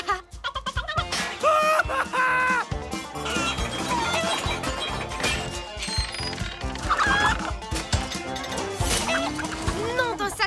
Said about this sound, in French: Ce n'est plus une, mais 3 poules qu'on a en cavale.